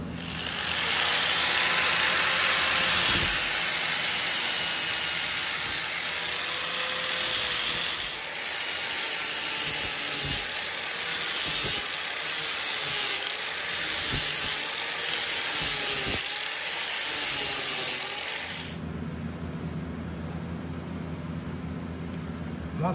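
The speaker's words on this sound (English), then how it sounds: "I'm gonna take my grinder and I'm gonna grind this corner down, probably through here and up to here" An angle grinder grinds down a corner of a 24-year-old racing mower's frame: a loud, steady, harsh grinding that runs almost without a break, then cuts off near the end, leaving a quieter hum.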